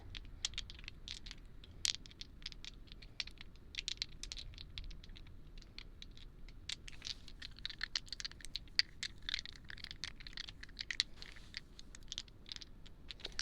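A set of astrology dice rattles softly and continuously in the hand, giving quick, quiet, close clicks and patters in a hushed room.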